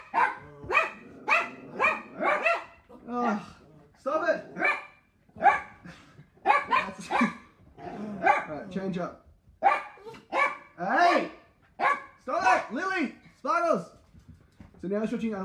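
Guard dogs bark repeatedly and loudly nearby, sharp barks coming in short bursts with brief gaps throughout.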